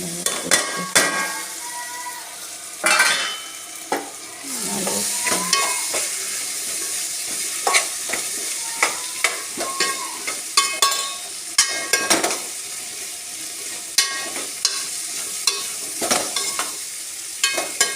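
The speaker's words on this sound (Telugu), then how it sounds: "ఇప్పుడు ఆలుగడ్డలు వేయాలండి" Sliced potatoes fry in hot oil in a pan for a potato fenugreek curry. They sizzle steadily throughout while a utensil repeatedly scrapes and clatters against the pan, close up with no talking.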